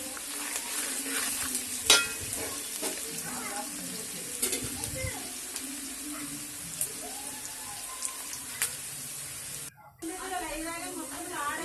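Chicken 65 with curry leaves is stirred in a sizzling pan, with scraping spoon strokes and occasional clinks over a continuous fry, while a voice talks underneath.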